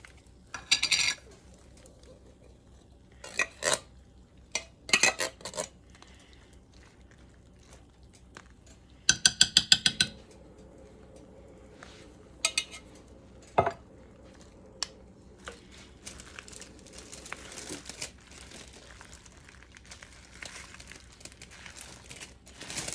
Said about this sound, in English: I'm just mixing it all up in the pot.